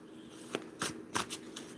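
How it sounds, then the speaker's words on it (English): A deck of cards being shuffled up close, several quick riffling bursts separated by brief pauses, crisp and papery, with no talk over it. "So, Tammy, as I shuffle these cards,"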